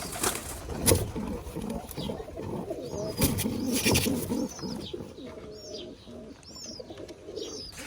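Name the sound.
pigeons cooing in a loft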